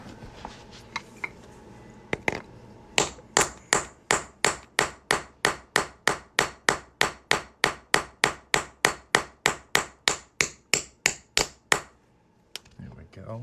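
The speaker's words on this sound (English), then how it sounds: "We're just going to hammer this punch right through here." Steady, evenly spaced metallic hammer blows ring out as a punch is driven through a coin, about two dozen sharp strikes in a row, close and clear, after a few lighter taps.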